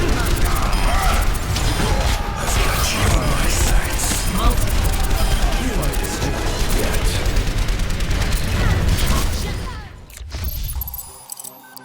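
Soldier 76's fully automatic rifle in Overwatch fires a loud, continuous stream of shots with impacts and mechanical clatter for about ten seconds, then stops abruptly into quieter residual noise.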